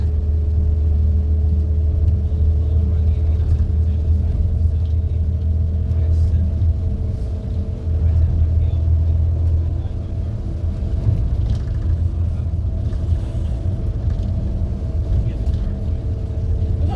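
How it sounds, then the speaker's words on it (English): A preserved Leyland Olympian bus engine runs steadily with a deep, continuous rumble and droning hum, loud and close throughout, with passengers talking over it. "Goes quite well for a bus, isn't it?"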